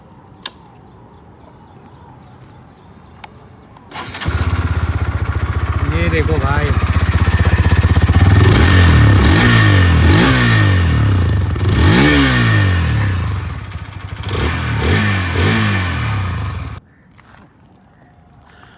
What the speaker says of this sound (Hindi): अब बारी आती है इसके एग्जॉस्ट नोट सुनने की, जो कि अब हम सुनने वाले हैं।